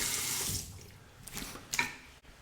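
Running tap water splashing as a face is rinsed after a shave, a brief faint flow with a few splashy bursts.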